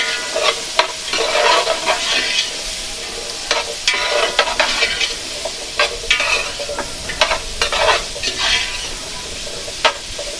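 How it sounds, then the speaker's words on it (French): Garlic, thyme and pepper sizzle in a hot pan while a spoon stirs them, giving a continuous frying hiss broken by repeated scraping and clacking strokes against the pan, close and loud. "Je vais mélanger."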